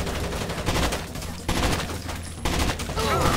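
Rapid gunfire in Rainbow Six Vegas, dense volleys of shots in several bursts separated by brief drops, loud and close, with a little speech mixed in.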